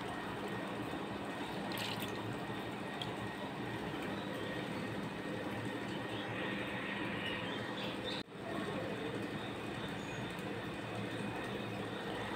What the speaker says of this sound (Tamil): இப்போ நம்ம இதை அரைச்சிக்கலாம்.